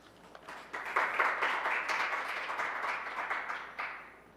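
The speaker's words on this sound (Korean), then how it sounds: "박수로 맞아주시기 바랍니다." Audience applause at an economics conference greets an incoming speaker, a steady burst of many hands clapping that swells quickly and then fades out after about four seconds.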